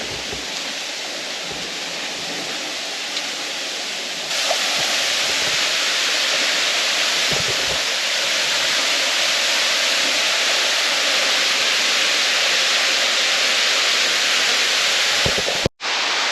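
Waterfall at Cascadas Las Delicias in Ciales, Puerto Rico, a steady broadband roar heard up close, growing louder partway through and continuing unbroken.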